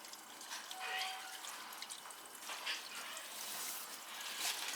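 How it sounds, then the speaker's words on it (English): Water from a still-running tap trickles and rushes through an old, rotted, leaking cast iron drain pipe, a steady faint hiss with soft dripping, heard close and alone. "Do you hear the water coming through?"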